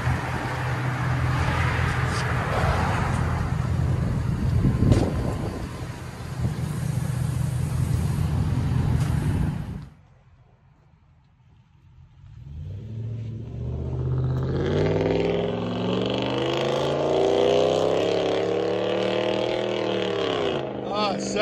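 A 2003 Ford F-150 with a 5.4L Triton V8 and aftermarket exhaust rumbles loudly, drops to near silence, then revs up again with a rising and falling roar, and people talk in the background.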